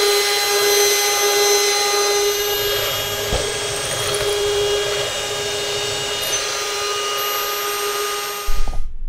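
Backing line is wound onto a tip-up spool with a steady, close whirring and whining hum that keeps going without a break, holding an even pitch and carrying several tonal harmonics.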